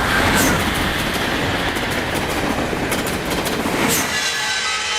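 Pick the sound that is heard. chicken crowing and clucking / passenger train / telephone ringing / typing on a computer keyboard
passenger train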